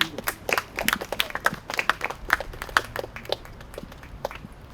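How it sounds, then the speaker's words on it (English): An audience at a Purple Heart recognition ceremony claps: scattered, fairly quiet individual hand claps in an uneven rhythm, with no voices over them. "Give her a round of applause."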